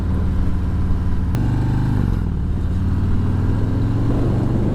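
A motorcycle engine drones steadily and loudly as the bike picks up speed through a lean, with a brief gear-change dip and rising pitch, close and continuous with no talk.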